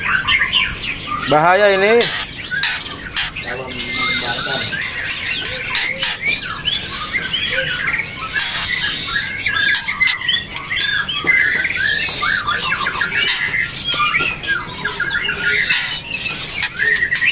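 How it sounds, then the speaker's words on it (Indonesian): A 3.5-month-old captive-bred Murai Medan Trotol shama gives rapid chirps, trills and rising whistles amid a busy chorus of other birds, with a brief voice at the start. "Ini murai Medan Pak ya?"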